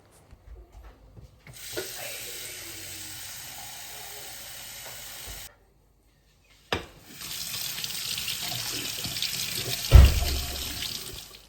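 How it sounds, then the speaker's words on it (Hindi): Tap water runs into a pan for making iced tea in a home kitchen in Switzerland, a steady rushing stream in two long bursts separated by a pause, ending with a brief clunk. "और एक पैन में मैंने पानी ले लिया था"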